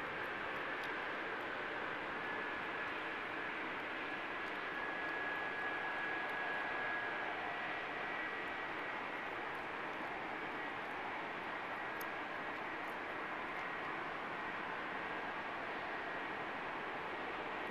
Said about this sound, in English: it's literally a plane landing right over our heads